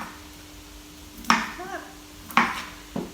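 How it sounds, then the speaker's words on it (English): A knife trims beetroot on a cutting board with three distinct sharp knocks against the board, spaced about a second apart, close and clear under a quiet background. "I just trim them away"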